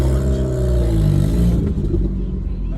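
A tuned 315 bhp Vauxhall Astra VXR with a blowing exhaust, heard from inside the car as a loud, steady low engine drone and rumble that carries through the whole stretch.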